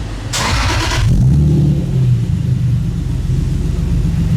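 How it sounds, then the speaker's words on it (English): Lexus IS300 Sportcross with a BCR exhaust starts up: a brief starter whir, then the engine fires into a deep, smooth, loud idle rumble close by, with no talk. "Here's a startup for you guys."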